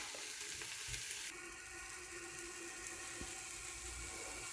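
Food gently sautéing in a pan over lowered heat, a soft continuous sizzle with light crackle, steady and close, with no talking.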